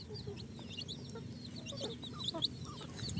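Hen and chicks cluck and peep on an organic farm, soft chirps and short clucks scattered over a low background murmur, close but fairly quiet.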